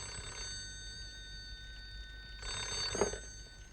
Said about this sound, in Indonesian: Angkat dulu teleponnya tuh.